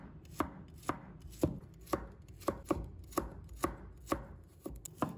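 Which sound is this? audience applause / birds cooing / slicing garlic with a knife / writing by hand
slicing garlic with a knife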